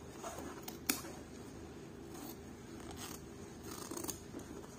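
Scissors snip through light fabric for a cocoon kimono jacket, a steady run of close, quiet crunching cuts with one sharper clip early on, heard alone without talk.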